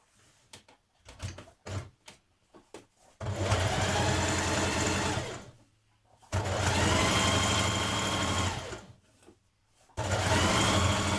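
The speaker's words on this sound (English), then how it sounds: "Once you've pressed your hem under, you can either hand stitch it or machine stitch it." A sewing machine stitches a skirt hem in three long, loud, steady whirring runs, with short stop-start bursts and clicks before the first run and a pause between each run.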